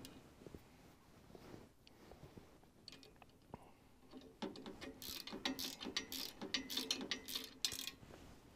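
Zip ties ratcheted tight on snowblower hydraulic hoses routed along the grill guard of a Kubota LX2610 compact tractor, a faint close buzzing zip at first, then louder rapid rasping bursts toward the end.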